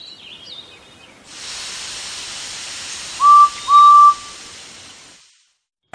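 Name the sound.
steam engine train whistle in a Thomas & Friends story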